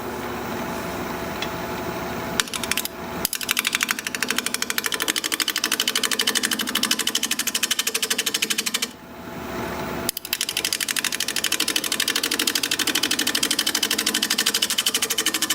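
Wood lathe spinning at 750 RPM while a 5/8 inch bowl gouge cuts a wood bowl, producing a loud continuous rapid chattering buzz with two short breaks where the cut pauses.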